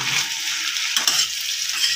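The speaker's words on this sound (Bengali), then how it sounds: "এই মশলাগুলো দিয়ে ভালো করে মিশিয়ে আরও মিনিট 5 ভাজবো, যাতে মশলার থেকে তেলটা ছেড়ে যায়" Spices and tomato paste fry in oil for a Bengali tangra fish dish with spring onions, giving a dense, continuous close sizzle with a brief scraping stir near the middle.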